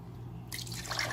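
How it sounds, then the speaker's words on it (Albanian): Water splashes into a pot of sugar as it is poured for syrup. A quiet hum gives way to a sudden bright, bubbling pour that keeps going. "Tani edhim 2 gota e gjysmë ujë."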